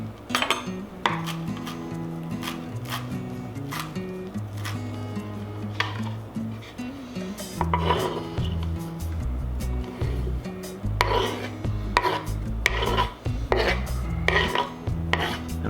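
A knife works through a small handful of cilantro in a rough chop, a run of quick irregular taps and clicks against a cutting board, close by with scattered kitchen clatter.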